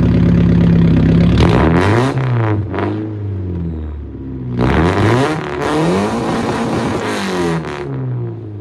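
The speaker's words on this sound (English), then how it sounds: "I'll put a clip in of when I started it up and how it sounded." A Nissan 240SX engine turns over and fires, then revs up and down in repeated surges with a mid-pitched roar, loud and close, settling between blips.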